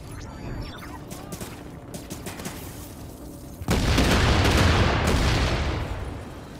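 Sticky bomb blast and gunfire in The Division, a run of sharp shots giving way to a sudden loud booming burst that rumbles and fades over a few seconds.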